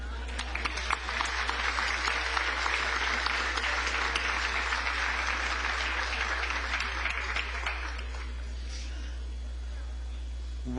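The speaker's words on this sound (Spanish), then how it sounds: "Propongo un aplauso para él." Applause from a conference audience welcoming a returning speaker, a dense steady clatter of many clapping hands that holds for about eight seconds and then trails off to quiet room tone.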